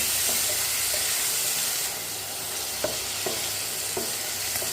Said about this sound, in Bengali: সব সবজিগুলো দিয়ে একটু নাড়াচাড়া করে নেব।